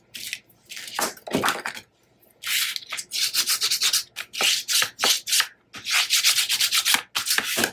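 Paper for a mini album being burnished, giving dry rubbing and scraping strokes in quick repeated bursts with short pauses, close and fairly loud, no talking.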